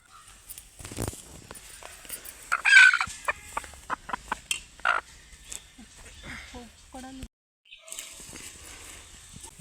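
Chickens cluck and squawk in short irregular bursts, fairly close, with a louder squawk partway through and some background voices.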